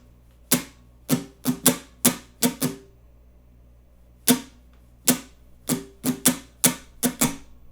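Acoustic guitar strummed in the second pattern for a song, down-down-up-up-down-down-down-up, two bursts of crisp percussive strokes separated by a pause, close and clear with no voice.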